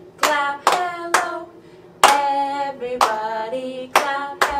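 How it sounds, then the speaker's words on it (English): Hands clapping along to a children's hello song, a handful of sharp claps at irregular intervals over sung voices. "Everybody clap hello, clap hello, clap hello."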